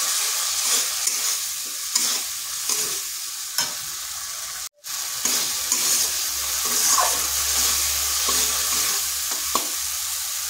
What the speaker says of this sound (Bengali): এরপর মশলাটা ভালো করে কষে নিতে হবে